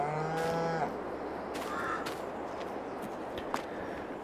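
Cattle moo in the Farming Simulator 22 video game on an old Polish farm, a single clear, fairly close lowing call at the start followed by quieter farm ambience with faint distant calls and a small knock.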